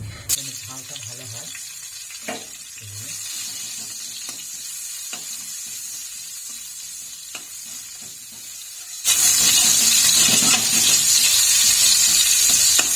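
Nigella seeds and green chillies hitting hot oil. A few quiet clinks and small handling noises come first, then a sudden, loud, close sizzle that keeps hissing steadily to the end.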